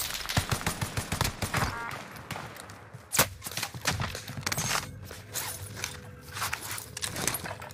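Gunfire in Call of Duty Warzone comes in scattered bursts and single sharp shots at varying distance, with a loud crack near the middle, mixed with footsteps and gear rustle.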